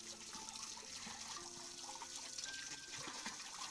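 A household water tap left running into a bucket outdoors in a hill village, a steady watery hiss and trickle that stays fairly even and continuous throughout, with no voices.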